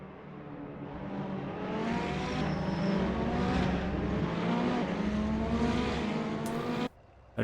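Ferrari race cars in the Assetto Corsa racing game at Imola, engines droning steadily and loudly together in formation, a dense sustained roar that cuts off abruptly near the end.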